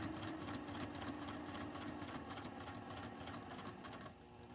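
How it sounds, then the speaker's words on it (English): A sewing machine stitches steadily in a fast, even rhythm, close and fairly quiet, slowing and stopping near the end. "Turn on your sewing machine."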